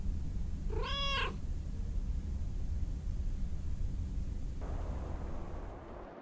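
A single clear cat meow in the video game Lake, rising and falling once near the start over a steady low background hum, with no other calls after it.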